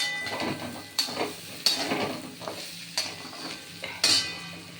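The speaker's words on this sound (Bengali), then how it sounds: "এবার আমি এই জিরে গুঁড়োটা দিয়ে একটু নেড়ে চেড়ে জল দিয়ে দেবো" Cumin powder stirred in a hot cooking pan for a vegetarian drumstick curry, a soft steady sizzle under repeated scraping strokes and sharp metallic clinks of a spoon against the pan about once a second, close and moderately quiet.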